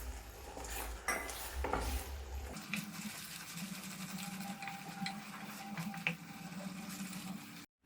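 Spoon stirring thick ginger syrup in a pan, soft scraping and clinks against the metal with a faint bubbling sizzle, close and quiet, repeating irregularly with no voices.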